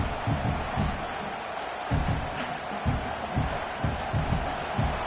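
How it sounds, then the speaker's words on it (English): Steady roar of a large stadium crowd at a Nebraska vs. UCLA college football video game, loud and continuous, with rhythmic low thumping bursts and swells of cheering throughout. "This crowd bringing the energy and noise early."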